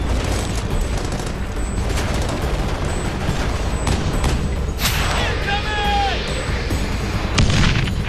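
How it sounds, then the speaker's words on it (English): Heavy mortar fire on a snowy mountain peak at Takur during an Al Qaeda ambush, heard as continuous booming and rumbling bursts under a dense battle din, with voices in the mix. "They're under heavy mortar fire."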